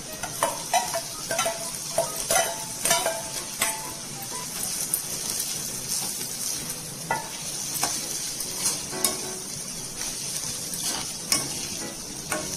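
Fried okra is stirred into tomatoes sautéing in a pan, a continuous close sizzle punctuated by repeated sharp clicks and scrapes of a spoon against metal over about twelve seconds.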